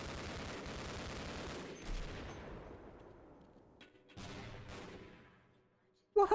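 Intense bursts of gunfire and grenade explosions from soldiers in the Half-Life video game. A dense fusillade fades out, then returns in fresh bursts, and a final sharp blast lands at the end.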